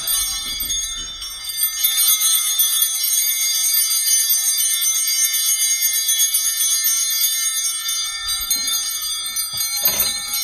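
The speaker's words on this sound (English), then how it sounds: "here's some ice cream bells" Small metal ice cream bells ringing steadily, bright sustained jingling and chiming for about ten seconds, close and loud, with a couple of soft knocks near the start and end.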